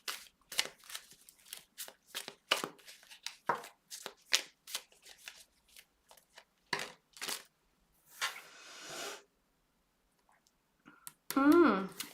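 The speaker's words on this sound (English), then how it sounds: "I'm going to keep shuffling." Tarot cards shuffled by hand, close up, as a rapid series of crisp riffling and slapping bursts with short gaps and a longer, softer rustle. A brief voice comes in at the end.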